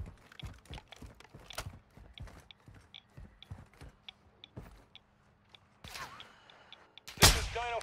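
Gunfire in the video game DMZ, a series of sharp, separate shots and clicks cracking out at an uneven rhythm, with a louder burst of noise near the end.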